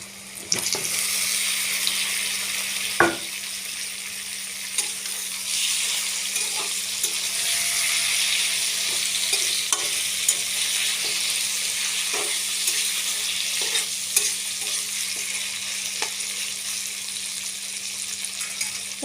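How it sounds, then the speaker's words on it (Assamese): Chicken marinated with turmeric, salt and ginger-garlic paste sizzling in a hot pan, a loud steady hiss with occasional clicks and spatters, close and without talk. "এতিয়া মই সানি থোৱা হালধি, নিমখ আৰু আদা নহৰু সানি থোৱা মাংসখিনি ঢালি দিম।"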